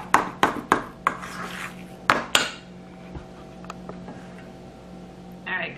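Spoon clinking and scraping against a bowl while deviled egg filling is mixed, a run of sharp metallic taps in quick rhythm followed by softer intermittent scrapes, close up.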